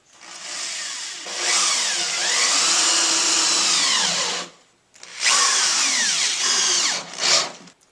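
A power drill drives 2.5 inch deck screws into wood in two long loud whining bursts, each dropping in pitch as the screw seats, followed by a brief final spurt.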